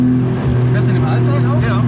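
A Porsche 911 GT2 RS engine idles with a deep, steady rumble, rising slightly as it is revved, with voices talking over it.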